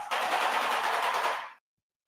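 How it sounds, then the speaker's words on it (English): A woodpecker drums on a surface in a suburban neighborhood, a single rapid, machine-gun-like burst lasting about a second and a half, sharp and loud, then cutting off to silence. "There's been the little woodpeckers in our neighborhood who apparently are confused."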